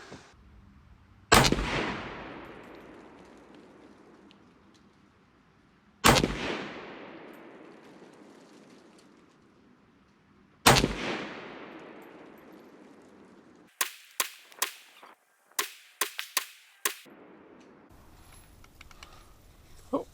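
SKS rifle firing at a 50-yard range: three loud, sharp shots spaced about five seconds apart, each with a long ringing decay, then a quick burst of five or six closer, drier cracks or clicks near the end.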